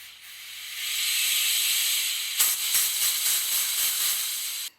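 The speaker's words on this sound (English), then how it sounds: "Blow some air directly into the fuel tank." Compressed air blasted into the fuel tank of a leaking Stihl chainsaw, a continuous loud hiss that swells in, then breaks into sputtering bursts before cutting off abruptly.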